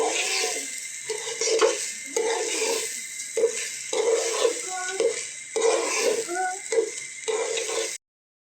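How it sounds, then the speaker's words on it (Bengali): Rice with ginger, garlic and cumin fries in a pot, giving a steady sizzle broken by repeated scraping stirs of a spoon against the metal, close and fairly loud, with a voice speaking faintly in the background. "চালটা একটু ভালো করে ভাজা দিব"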